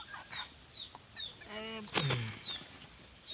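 Chickens cluck a few times near a backyard pond, with one louder, harsher call about halfway through and thin bird chirps in the background.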